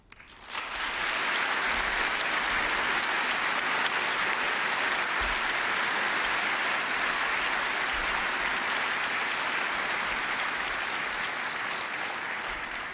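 Sustained audience applause at the 2005 National Day Rally, a dense wash of clapping from a large crowd that swells in quickly and holds steady and loud throughout, with no talk over it.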